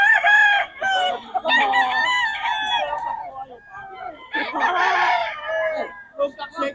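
A Gold Sweater bloodline gamecock crows loudly and close several times, long drawn-out calls separated by short pauses, with a voice talking faintly underneath.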